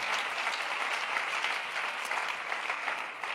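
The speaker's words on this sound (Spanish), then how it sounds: "Si va a aplaudir al Rey, hágale con fuerza" A church congregation applauds during a sermon, steady dense clapping that holds at an even level throughout, with no voices over it.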